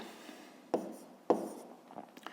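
Pen strokes writing numbers on paper while setting out a long division of 244.8 by 12, two firm scratchy marks standing out among lighter rubbing strokes, close and quiet with no talk.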